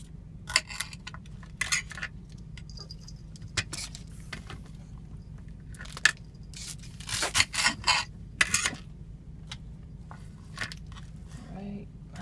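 A knife cuts up food on a surface for Velveeta cheese dip inside a truck, giving scattered scraping and tapping sounds over a low steady hum, with a person talking at moments.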